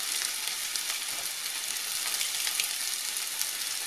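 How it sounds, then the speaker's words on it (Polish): Onion and garlic fry in a pan for risotto, giving a continuous soft crackling sizzle that stays close and even throughout, with tiny pops scattered across it and no voices. "Cebulę podsmażam krótko, tylko do zeszklenia."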